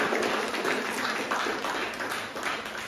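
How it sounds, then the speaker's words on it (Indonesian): Indoor applause from a classroom audience during a microteaching session, steady, dense clapping that holds evenly for the full stretch and slowly fades toward the end. "Kita beri aplaus."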